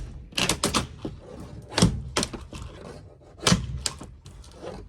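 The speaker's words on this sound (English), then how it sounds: "let me get started by taking all these staples out and these plastic rails." Small crowbar prying staples and plastic rails off a hard-side popup camper roof; sharp metallic snaps and pops in uneven clusters, loud and close, with scraping between hits and no talking.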